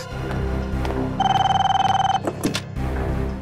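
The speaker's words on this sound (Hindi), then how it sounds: "ये उन्हीं का फोन होगा" A telephone rings with a loud, rapid electronic trill lasting about a second amid a tense scene in the Indian TV crime drama CID, with background music and thuds around it.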